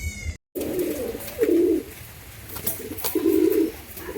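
Giribaz pigeons coo in soft, low, throaty bursts, several repeated calls spaced irregularly and heard close by.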